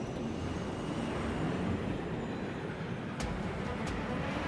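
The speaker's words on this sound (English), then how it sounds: "But when Kaim steals train number 3, well, that's unacceptable." Train running in the video game Lost Odyssey: a steady, dense rumble of wheels and carriages throughout, with a couple of brief sharp clicks near the end and no voices.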